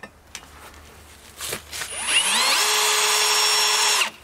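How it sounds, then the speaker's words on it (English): Power drill running at low speed into metal for a homemade brake drum and rotor puller, oiled at the spot; a few clicks and handling noises, then a steady whining drone for about two seconds that stops abruptly, close and loud. "So we're just drilling on low speed."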